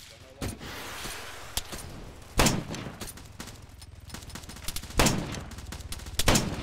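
Small arms gunfire in Arma 3 cracks out in sharp, loud bursts several times, separated by short gaps, with a quieter rattle of distant shots and faint radio-style chatter in between.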